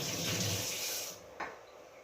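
Water runs steadily from a kitchen tap for hand washing, a broad rushing flow that stops after about a second, followed by a brief splash.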